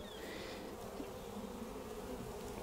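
Honey bees buzzing at an open hive during a spring inspection, a dense, steady hum from many insects close by with no talking.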